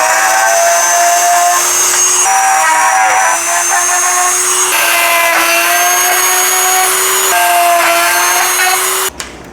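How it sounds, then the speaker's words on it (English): Power drill boring holes in a car headlight housing, a loud sustained high whine that dips briefly between holes, then cuts off abruptly at the end. "So now we have our holes drilled."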